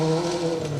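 Peugeot 205 rally car on a forest stage, its engine droning loud and rough with steady harmonics, sounding worn and noisy as it passes close by.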